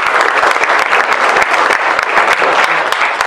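Audience at a Republican senate candidate forum in Alamogordo claps steadily, a dense, even roar of many hands held at full strength for the whole stretch.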